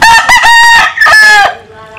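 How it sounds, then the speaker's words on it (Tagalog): A rooster crows loudly and up close in one long, drawn-out cock-a-doodle-doo with a couple of rising and falling segments, ending in a faint tail of quiet background. "Tingnan ang manok mga kaibigan."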